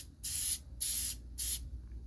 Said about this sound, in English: For finish, I'm going to go with a couple coats of spray-on shellac.